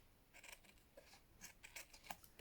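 Scissors snipping through fabric at a craft table while assembling a journal, with a few faint, quiet cuts and light rustling.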